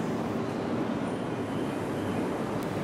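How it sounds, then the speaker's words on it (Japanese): A Yamagata Shinkansen Tsubasa train coupled to a Tohoku Shinkansen arrives at a station platform, giving a loud, continuous broadband rumble and rush of wheels and air, heard up close without speech. "新幹線来ていました。"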